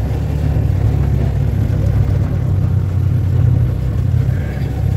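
An auto rickshaw engine running nearby, a steady low rumbling drone with constant loudness throughout and no voices.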